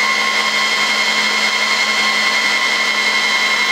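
An Asus ESC4000 G2 2U server with Intel Xeon Phi cards installed has its fans roaring loud and steady under load, a constant whine and rush of air with no variation and no voices.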